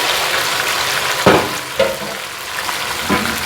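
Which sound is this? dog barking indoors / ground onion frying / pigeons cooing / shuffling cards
ground onion frying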